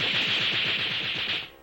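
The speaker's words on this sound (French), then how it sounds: "Nom d'un chien, des coups de fusil." A rapid burst of gunfire in a French-dubbed Lucky Luke cartoon, about a dozen shots in quick rhythmic succession, loud and close, ending abruptly.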